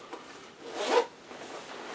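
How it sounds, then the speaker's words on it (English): A zipper running down the side of a garment gives one quick, close rasping pull lasting under a second, with faint fabric rustles before and after. "Zipper down the side."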